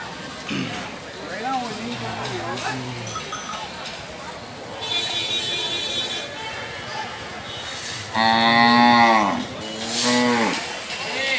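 Bulls lowing at the Haveri bull market, a busy livestock fair, with several drawn-out moos, the loudest near the end, rising over steady crowd chatter and people talking nearby.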